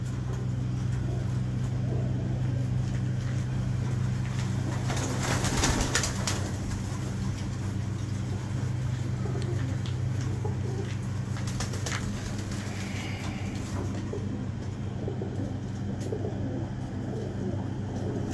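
Sialkot pigeons coo softly and repeatedly over a steady low background hum, with occasional faint knocks and rustles nearby.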